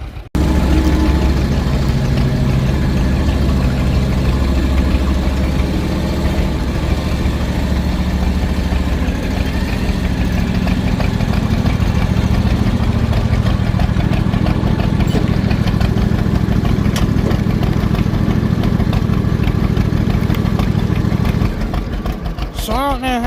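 A John Deere H tractor engine runs steadily at idle for the whole stretch, a constant loud mechanical drone with no breaks.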